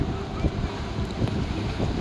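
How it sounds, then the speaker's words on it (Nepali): Strong wind buffets the microphone in loud, roaring gusts during a windstorm with rain and darkness in Butwal, with a wash of rain noise underneath, continuous and close. "अन्धकारसँगै पुरै हावाहुरी प्लस यहाँ पानी नै परिरहेको अवस्था छ"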